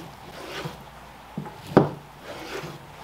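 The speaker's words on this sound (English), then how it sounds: "these pieces, we're just gonna keep cutting into nice steak-like pieces" A knife slices boneless beef chuck into steak-sized pieces, 3/4 to 1 inch thick, giving a few soft, close scraping cuts and two short thuds against the board, quiet and without talk.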